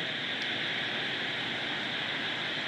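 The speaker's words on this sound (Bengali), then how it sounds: "বৃষ্টি পড়ছে, ঝিঝি পোকা ডাকছে," Heavy night rain falls on an empty road in New Digha as a dense, steady hiss that holds unbroken throughout, with no voices.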